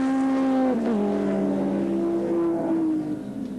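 A 1991 touring race car sweeps through a bend at Mallala Motorsport Park, its engine a loud sustained drone that drops in pitch as the driver shifts, then holds steady and fades slightly as it passes.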